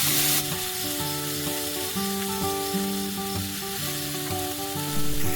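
Ground spice paste fries in hot oil in a wok with a steady, even sizzle, while melodic background music plays throughout.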